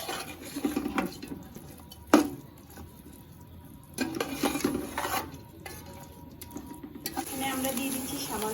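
Chicken rice being stirred in a single pot after milk has been added, with scraping and clattering bursts from a spoon against the pan, a sharp clank near two seconds, and a soft sizzle underneath.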